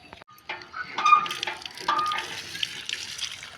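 Tap water splashes and trickles at a village outdoor tap while something is washed under it, with close, irregular splashing and dripping and no speech.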